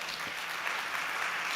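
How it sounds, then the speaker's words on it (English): An audience at a startup competition stage applauds in a steady, even wash of clapping throughout the short moment. "Please give a huge round of applause to Roger Blanche."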